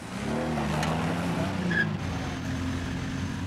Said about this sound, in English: An Austin Healey leads a two-stroke Saab through the gate.